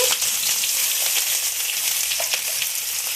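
Chopped onion and whole cumin frying in hot mustard oil for a village-style Bengali curry, a steady close sizzle with faint crackles and occasional stirring clicks, no voices.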